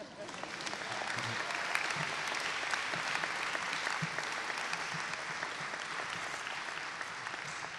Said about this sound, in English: We're almost done clapping.